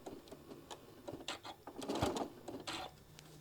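A sewing machine stitches quilt block seams, making quiet close mechanical clicking and a short run of rattling stitches, with no talking.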